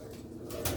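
Sialkoti breeder pigeons with fine coloured plumage coo softly and briefly, close by, in a short low murmur without talk.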